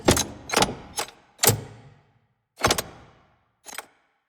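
Designed mechanical effects from a mech sound library group, heard as six sharp clanking, ratcheting bursts with fast decays, spaced irregularly and alone without any talk.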